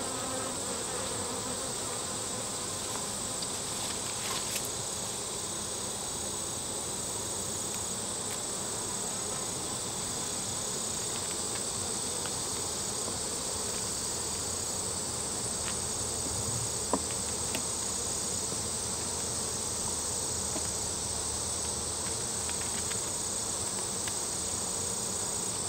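Honeybees buzz steadily throughout a hive inspection, a dense, constant drone of many wings close by with no talking, only faint handling noises now and then.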